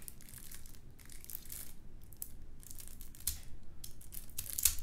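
Board game card packaging is torn and crinkled open by hand, with soft close crackles, rips and crumpling plastic in irregular bursts at low volume.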